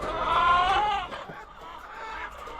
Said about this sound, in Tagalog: Once na nagkakak na yung mga manok